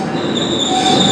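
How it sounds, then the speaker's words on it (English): A Metrolink commuter train, F125 locomotive era, passes close by at a station in Fullerton, a loud steady rumble of railcars with high wheel squeal ringing over it throughout. "Okay, here comes a Metrolink."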